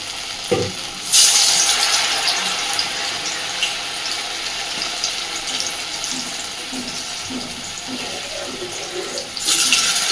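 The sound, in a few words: batter-dipped pointed gourd frying in hot oil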